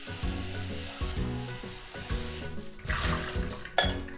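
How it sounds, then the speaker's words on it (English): Cold tap water gushes steadily over cooked bean sprouts in a home kitchen, a continuous close splashing rush with small clatters from the sprouts and colander. "And make sure you run over the cold water."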